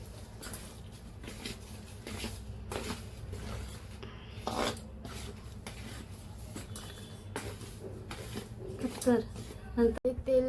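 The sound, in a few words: mixing modak dough with hot oil by hand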